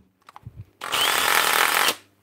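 A power drill under repair, switched to hammer mode, gives a few handling clicks and then one loud, harsh burst of about a second before winding down.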